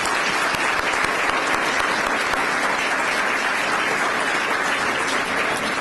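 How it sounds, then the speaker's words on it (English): An audience at a lecture gives a round of applause, dense sustained clapping that stays loud and even throughout. "We should give her a round of applause for this."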